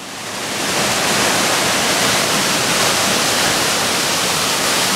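A waterfall pours into a deep swimming-hole pool at the bottom of a rocky amphitheatre, a loud, continuous, broadband roar that swells in over the first second and then holds steady, with no voices.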